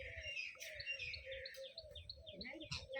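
Busy parrot chirping and tweeting, a parent and young, several calls overlapping in a steady chatter, fairly close, with a low background rumble.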